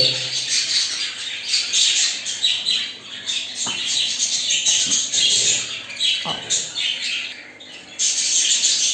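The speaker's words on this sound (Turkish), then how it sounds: "Muhabbet kuşu yavrularına bakalım." Dense high-pitched squawking and chirping from several budgerigar chicks, continuous and close, with a few soft knocks underneath.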